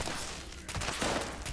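Explosive ballistic weapon firing in the video game Fallout 76, a short burst of booming blasts and rattling shots, moderately loud and heard alone with no speech.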